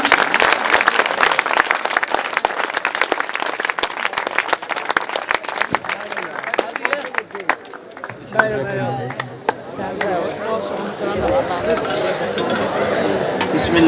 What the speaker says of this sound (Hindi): तालियां भी बजाई जाती।